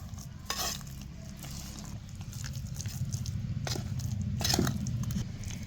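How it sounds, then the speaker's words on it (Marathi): A spoon stirs salt and a spoonful of sugar into a lentil mixture, giving soft, steady scraping and patter in a quiet kitchen with a few sharper clinks. "चवीनुसार मीठ घालायचं थोडंसं लय टाकायचं नाही मीठ मिक्स करून घ्यायचं"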